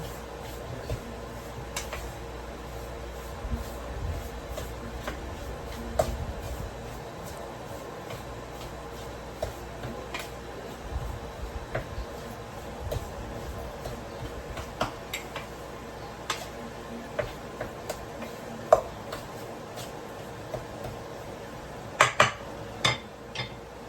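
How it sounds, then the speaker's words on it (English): Homemade spaghetti and ground beef stirred in a pot, with light, irregular scraping and clicking of a utensil against metal, fairly quiet and close, with a few sharper taps near the end. "I'm gonna stir this for a little bit here"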